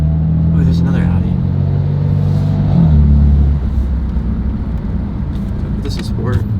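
A 600 hp BMW F80 M3 drives in Sport Plus mode, its engine droning loud and steady with a low rumble that swells briefly in the middle, and speech is mixed in over the cabin noise.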